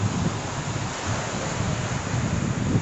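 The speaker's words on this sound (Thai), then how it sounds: "แรงมาก ลมตึงเลย แต่ลมมันไม่สดชื่น่ลมมันเหนียวเหนียว" Strong sea wind roars at Cha-am beach, a loud, continuous buffeting rush battering the microphone with a low rumble of surf beneath, and no voices.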